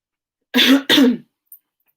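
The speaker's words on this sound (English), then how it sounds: "That sounded like an asthmatic cough" Two quick, harsh, asthmatic-sounding coughs close by, one right after the other, followed by a faint short breath.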